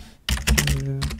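Quick keystrokes on a computer keyboard, a short run of close, crisp clicks after a brief pause, heard alone without talk.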